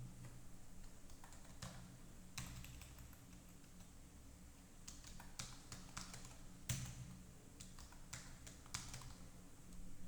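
Keys on a computer keyboard are tapped in quiet, uneven bursts as a password is typed into a Linux terminal, with one slightly firmer press standing out among the faint clicks over a soft background hiss.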